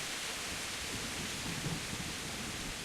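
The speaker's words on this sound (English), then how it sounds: "I love the rain." Video game rain in Kingdom Come: steady hiss with a low rumble of thunder rolling through the middle, soft and distant, no voices.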